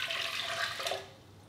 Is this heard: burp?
no